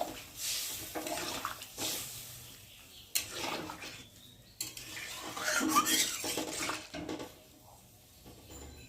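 A vegetarian potato curry is stirred in a pot after water goes in, with repeated scraping and sloshing strokes of a spoon against metal, close and uneven, punctuated by sharper clinks.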